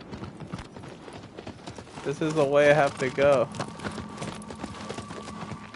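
A horse gallops in a video game with steady, fairly quiet clip-clop hoofbeats running throughout, while someone talks over the middle stretch.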